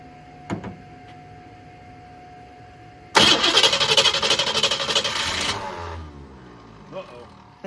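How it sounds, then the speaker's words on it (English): A 1966 Ford Mustang convertible engine, dosed with starter fluid, cranks on the starter in a loud rapid chugging burst of about two and a half seconds, then falls quiet, with faint sounds nearby before and after. "Let's give it a little bit of starter fluid."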